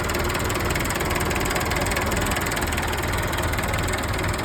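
A Massey Ferguson 265 tractor fitted with an upgraded, more powerful motor runs steadily at close range, its loud continuous diesel drone and knocking vibration filling the clip without talk.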